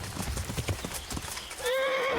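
Horse hooves clip-clop steadily on the ground in the medieval game Kingdom Come: Deliverance, a brisk rhythmic trot up close, ending in a high, drawn-out whinny.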